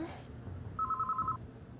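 A telephone rings in a JoJo's Bizarre Adventure: Diamond Is Unbreakable anime episode, one short electronic ring pulsing rapidly for about half a second over a low background hum.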